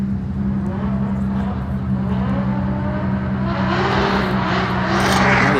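A drift car's engine revs during a drift practice session, a steady loud engine drone with a strong low hum that swells and grows brighter toward the end, heard alone.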